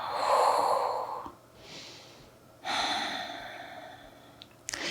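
Slow, deep breaths during a yoga stretch: a long audible inhale, a pause, then a soft exhale and another strong breath, close and fairly quiet with no talking.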